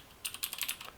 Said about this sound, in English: you're going to type in python.org